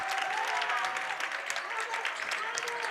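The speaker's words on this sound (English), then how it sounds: "Waupun crowd getting into it, encouraging this team." A high school boys basketball crowd in a gym applauds and cheers to encourage its team, a steady, moderately distant roar of clapping and voices with a whistle-like tone drifting through.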